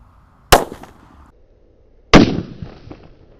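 Roman candle firecracker fireworks going off outdoors, two sharp loud bangs about a second and a half apart, each trailing into a short crackling fizz before quiet returns.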